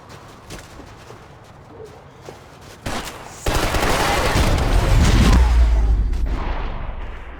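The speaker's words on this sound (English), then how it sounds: "Gunfire over Hoboken." Quiet ambience with a few scattered pops, then a sudden roar of dense, rapid gunfire and rumbling blasts that slowly fades, from the video game Max Payne 3.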